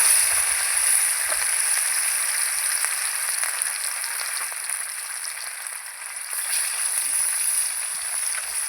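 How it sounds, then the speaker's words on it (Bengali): Bhetki fish frying in hot oil, a dense, steady crackling sizzle that runs continuously and close by, with no talking. "এবার এই মাছগুলো এবার ভেজে নেব"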